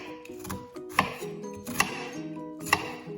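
A knife chops through an onion on a board while it is diced for spaghetti bolognese, making three sharp, close thuds with lighter cutting and scraping sounds between them.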